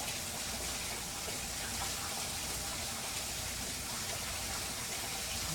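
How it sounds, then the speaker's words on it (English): Steady broadband rush of water running through a Sluice Goose GOLDROP sluice box, a continuous even gushing flow with no pauses, close and fairly loud throughout. "Okay, now we'll turn on the water."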